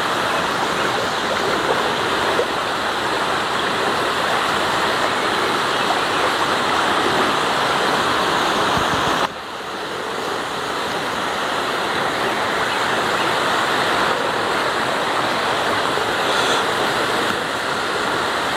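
Constant loud rushing of a waterfall close by at an abandoned nature site in Banyuwangi, a broad steady roar with no voices, briefly dipping midway before resuming.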